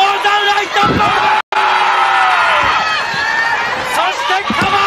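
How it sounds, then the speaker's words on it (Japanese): A packed wrestling arena roars for Akira Hokuto's retirement match, a loud continuous wall of cheering and whooping with a brief cut partway through, then the roar swelling again. "場内大歓声"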